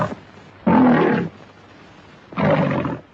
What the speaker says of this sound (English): The MGM Lion records its roar for the talkies